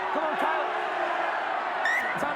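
Rugby league championship semi-final crowd, over 2,500 with a Halifax contingent, cheering and bellowing steadily at a distance, with a few whoops rising out of the noise.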